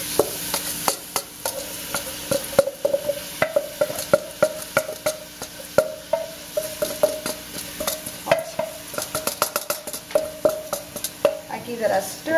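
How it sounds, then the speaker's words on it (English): Rice being stirred into hot ghee and spices in a pot, a steady sizzle broken by repeated scraping and clinking of the spoon against the pot, close and fairly loud. "Give it a stir."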